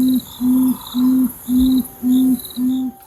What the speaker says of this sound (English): The call of the tawny frogmouth is a repetitive droning noise.